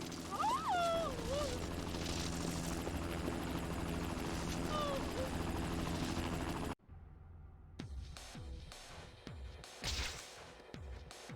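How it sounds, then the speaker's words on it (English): Helicopter flying in the Spider-Man 2 video game, a loud continuous rotor drone with voices over it, then cutting out to a series of sharp hits and crashes. "So all I have to do is hang off this helicopter."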